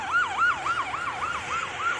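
An ambulance siren wails in a steady, repeating up-and-down sweep, loud and close, with faint road noise beneath and no voices.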